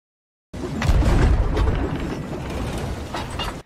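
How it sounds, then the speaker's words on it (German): Chain shot from a ship's cannon in the pirate game Sea of Thieves, two chained cannonballs making a sudden booming launch followed by a rough, whirring rattle that fades over a few seconds. "Die drehen sich halt, die machen dieses komische Geräusch und damit versucht er, Rainers Mast zu treff"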